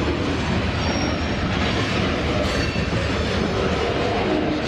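A K83 freight train rolls through Bevier St. yard, its wheels grinding and squealing over the rails in a loud, steady, close rumble with faint clickety-clack.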